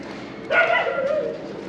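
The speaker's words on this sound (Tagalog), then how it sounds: "Diyos ko, may aso." A single dog bark rises from a steady background hum, followed by a brief whining tail that fades out.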